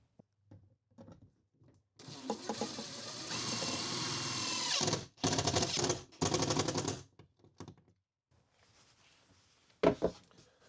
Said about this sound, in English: I'm gonna get the rest of the screws in